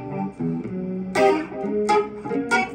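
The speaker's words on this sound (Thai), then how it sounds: "ดีเลย์ผมจะเลือกเป็นอะนาล็อกดีเลย์ธรรมดาเลย" An electric guitar runs through the analog delay effect of a Zoom G5n multi-effects unit, playing a few plucked notes and chords with sustained, echoing tails at moderate level.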